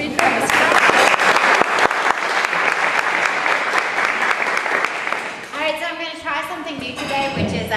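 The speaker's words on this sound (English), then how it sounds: "let's give a round of applause for our guest speaker" An audience at a professional program gives a guest speaker sustained clapping, steady and dense for about five seconds before it thins out as a voice begins speaking over the fading claps.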